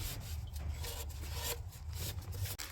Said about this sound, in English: Get all that debris off from there, all that dirt.